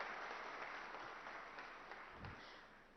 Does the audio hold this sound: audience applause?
yes